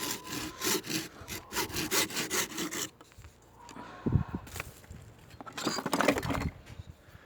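A one-year mulberry shoot is cut with a small saw for a grafting scion: close, rhythmic back-and-forth rasping strokes, a brief pause with a few knocks, then a second burst of scraping strokes.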